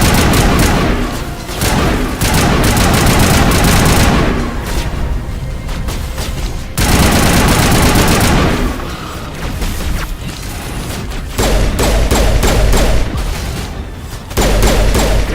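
Sniper rifles and other weapons firing in the video game Mass Effect make loud, dense bursts of gunfire and booms in several long volleys, with short quieter gaps between them.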